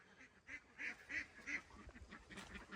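Farm ducks quacking in a quick series of nasal calls, several clear quacks close by and moderately loud, followed by softer overlapping calls.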